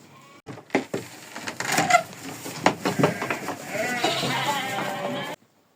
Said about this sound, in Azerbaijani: qoyunlar həyətə qaçdılar